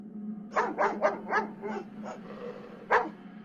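A dog barks loudly in a quick burst of five or six barks, then one more sharp bark after a pause, close up over a low engine hum, in an animated horror story.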